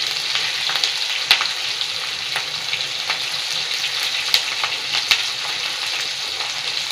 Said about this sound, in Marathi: कढीपत्ता टाकूया। मिरच्या 5 कट केलेल्या,